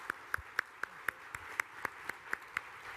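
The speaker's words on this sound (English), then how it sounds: "Everybody, please give Christina a round of applause." A single pair of hands claps in a steady, evenly spaced rhythm, about a dozen sharp claps over three seconds, quiet and close in a small room.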